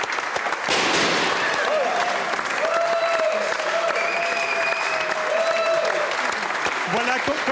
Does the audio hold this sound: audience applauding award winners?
yes